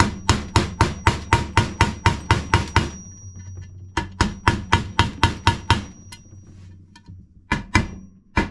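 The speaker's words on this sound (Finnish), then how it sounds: "Ei tuo pikkusta laakeria saa naputella ihan jonkun aikaa" Rapid metallic hammer taps driving a small bearing on a 1979 Suzuki RM125 motorcycle, a quick even burst of blows, a pause, another run, then a few scattered hits, close and loud with no voices.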